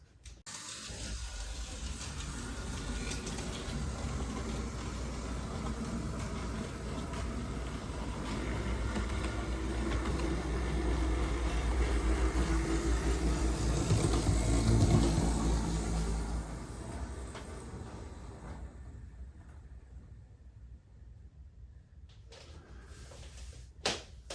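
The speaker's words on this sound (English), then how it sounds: "let's drive a train past." A small model train rumbles along the track, growing louder as it approaches, peaking mid-way, then fading into quiet with a brief click at the end.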